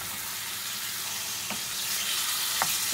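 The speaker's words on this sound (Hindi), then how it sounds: "चिकन को थोड़ा सा बस पकाएंगे जब इसका कलर चेंज हो जाए।" Chicken pieces cook in a hot pan, giving a steady, moderately loud sizzling hiss with a couple of faint scrapes or taps, no voices.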